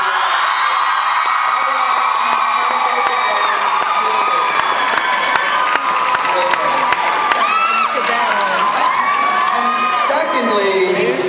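A packed San Diego Comic-Con 2014 crowd at a Teen Wolf panel cheers, whoops and shrieks loudly and continuously, with a high-pitched roar of excited voices over scattered clapping throughout.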